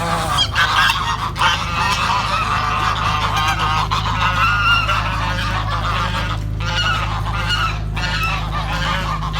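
Geese honking loudly and repeatedly nearby, a dense overlapping chorus of harsh calls over a steady low background hum.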